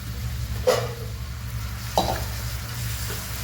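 Soaked split moong dal being stirred in a hot pan, with two distinct scraping strokes of the spoon over a soft, steady sizzle.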